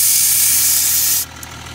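A Streetwize electric air compressor tyre pump runs with a loud, steady hissing roar, then cuts off abruptly, leaving a quiet background with a faint click.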